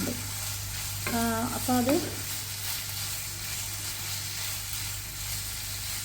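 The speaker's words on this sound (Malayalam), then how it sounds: "എണ്ണ ചൂടായതിന് ശേഷം ഞാനിങ്ങനെ സോസേജ് ഇട്ട് കൊടുത്തത് കുറച്ച് സമയം ഇങ്ങനെ അത് വറുത്തെടുത്തതിന് ശേഷം" Sausages sizzle and fry in hot coconut oil in a pan, a steady close crackle throughout, with someone speaking briefly near the start.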